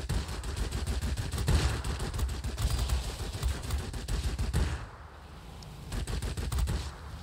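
Rapid bursts of machine gun fire from a P-38L fighter in a flight combat video game, loud dense chatter that pauses briefly near the end before resuming.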